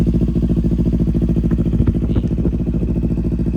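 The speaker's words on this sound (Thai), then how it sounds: "เสียงท่อนุ่มๆทุ้ม ๆเครื่องยนต์เงียบๆครับ" A 2018 Kawasaki Ninja 400 motorcycle with about 14,000 km, serviced with Motul 7100 oil, idles steadily nearby, its soft, deep exhaust pulsing in an even, smooth rhythm with a few light clicks.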